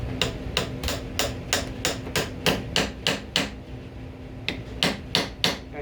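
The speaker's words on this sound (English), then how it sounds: "Now you don't want to hammer these in all the way." Steady series of close, sharp hammer taps driving pegs into a wooden candlestick stand at a workbench, about a dozen strikes in an even rhythm with a short pause before a final run of blows.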